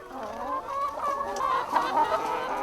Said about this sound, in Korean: 닭은 탁 트인 공간에서 본성에 충실할 수 있다.